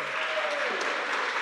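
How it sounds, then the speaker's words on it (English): Audience applause at a lecture hall event, a dense, steady wash of many hands clapping that holds evenly throughout, fairly loud and sustained with no clear breaks. "Okay, now clap."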